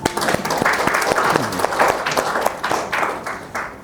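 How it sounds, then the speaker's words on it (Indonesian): A school farewell-and-welcome gathering for a principal, where teachers and staff break into loud applause. Distinct sharp claps ring out over a dense bed of clapping before it fades toward the end. "Tepuk tangan dong."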